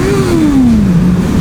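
A Honda motorcycle engine at full throttle on a road leaving a village, a loud, close, sustained drone whose pitch sags gradually rather than climbing, as if failing to pull.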